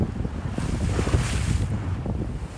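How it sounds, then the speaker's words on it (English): Open Atlantic Ocean waves and gale-force wind surround a sailboat at sea, with loud rushing water, gusty microphone buffeting and a brighter surge of spray in the middle, no voices. "In this episode, we're out on the Atlantic. We have reached the open ocean."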